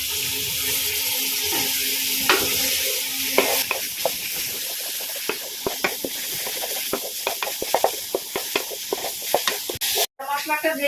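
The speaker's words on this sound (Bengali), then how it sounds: "এবার একটু সামান্য গরম জল দিলাম।" Spiced chicken masala sizzles steadily in a pan as a little hot water is added, with a busy run of clicking stirring and scraping strokes over the constant frying hiss, close and fairly loud.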